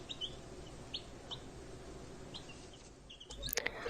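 Chickens, not yet 12 weeks old, cluck and chirp in short, faint calls scattered over a quiet background, with a louder burst near the end.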